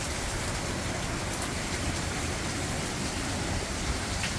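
Wind-driven rain in Georgia roars as a steady, dense, even hiss of heavy rainfall, with no voices and no breaks.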